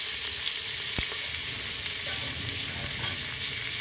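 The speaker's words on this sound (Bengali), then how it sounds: "এখন আমার পেঁয়াজগুলো ভাজা হয়ে গেছে।" Onions frying in mustard oil inside a pressure cooker, making a steady, close, dense sizzle that carries on without a break, with one brief utensil knock near the start.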